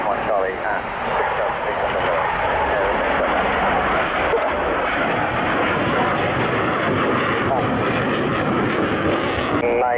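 Panavia Tornado military jet aircraft roaring loud and steady from start to finish, a dense continuous engine rush with faint radio chatter underneath.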